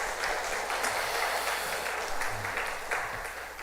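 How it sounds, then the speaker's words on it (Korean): Church congregation applauding during a Wednesday service, a dense, steady wash of clapping that fills the room and fades slightly toward the end. "다시 한 번 더 감사하다고 박수 올려드릴까요?"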